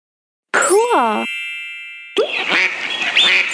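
A cartoon duck quacks in a mobile animal-matching game: a bright, wavering call rings out near and loud, then a short chime, then a second burst of clipped, raspy quacks.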